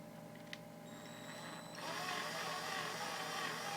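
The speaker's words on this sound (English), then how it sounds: "So now, we're going to drill the hole." A drill bores a hole through a metal Glock trigger part at medium speed, its steady whirring motor swelling louder midway as the bit bites into the metal and keeps grinding continuously.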